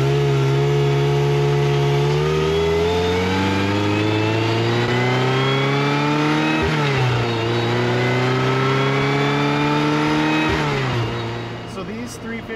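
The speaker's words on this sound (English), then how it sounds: "The sound the engine makes, it's one of the best sounding Ferraris that they ever made." Ferrari F355 engine on a test drive, a loud, close mid-pitched howl that climbs steadily through the revs, dips briefly at each gear change and climbs again before easing off near the end.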